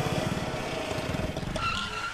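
In a traffic jam, car and motorbike engines rumble and rev close by, with a busy, uneven drone and a brief higher whine near the end.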